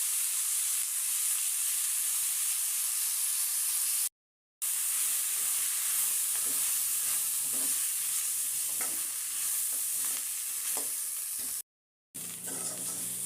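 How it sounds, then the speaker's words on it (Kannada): Masala sizzles and fries in a pan for chicken avarekai bassaru, a steady close hiss with faint stirring scrapes and two brief silent gaps, no talking. "ನೋಡಿ, ಇವಾಗ ಇದು ಫ್ರೈ ಆಗಿದೆ."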